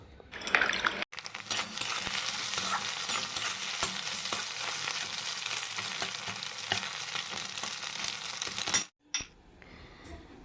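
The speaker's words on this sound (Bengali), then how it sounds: "এখন আমি আলু আর ডিম ভেজেছি" Potatoes and eggs fry in a pan, a dense, loud sizzle running steadily for several seconds, with short bursts of stirring and clinks at the start and end.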